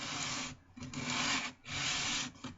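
Rough, rasping strokes of a sanding board on wood, shaping an inner curve of handmade knife scales, come in long back-and-forth passes, close and steady, with short pauses between strokes.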